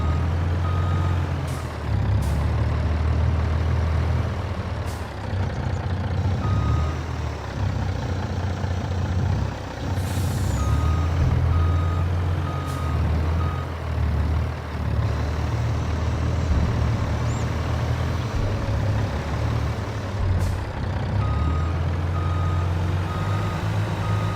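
A large dump truck reverses on a construction site where a massive wall is being built. Its backup alarm beeps repeatedly and loudly over a deep, continuous engine rumble, with sharp hisses of air brakes now and then.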